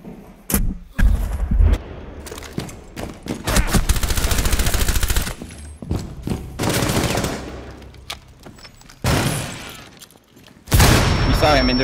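Bursts of automatic gunfire and single shots ring out during a Rainbow Six Siege team deathmatch on the Coastline map, loud and close in several volleys with pauses, while players talk over the action.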